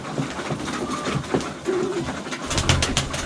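Baku pigeons cooing close by, soft throaty calls repeating every second or so, with fluttering and light rustling in the background.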